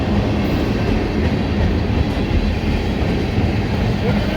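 CSX M372 freight train, carrying diesel fuel tankers, rolls past close by at Mt. Airy with a loud, steady roar of wheels on rail that continues throughout.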